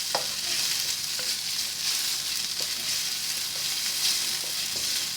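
Chicken breast rendang being stirred in chili paste in a pan, a steady frying sizzle with scraping utensil strokes recurring every second or so, close and continuous.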